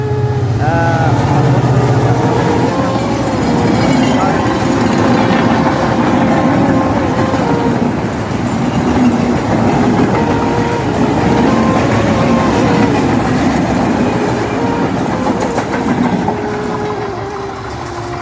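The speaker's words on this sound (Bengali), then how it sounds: "দেখুন খুব সুন্দর একটি ট্রেন যাচ্ছে" A train rumbles past on the tracks close by, loud and sustained throughout, with a faint rhythmic clatter of wheels.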